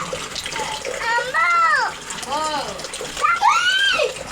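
Steady rainwater pours and splashes off a roof in light rain, a continuous watery spatter with someone speaking loudly over it.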